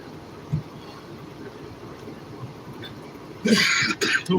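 A couple of coughs, one small and brief early on, then a louder, harsher cough near the end over a faint background hum.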